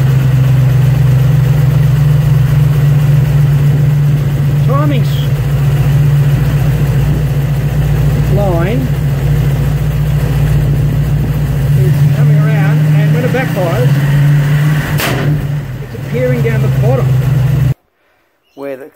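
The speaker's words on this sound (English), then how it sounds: "Car is backfiring" A 1974 Chrysler 360 V8 with a Hall effect distributor runs loud and close at a steady idle with an engine hum, revving up several times with sharp backfire pops, then cuts off abruptly near the end.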